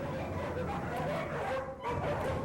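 Dogs in an animal shelter kennel room, including ill-tempered pit bulls and quarantined bite dogs, bark and yip in a dense, reverberant chorus that stays fairly faint and continuous.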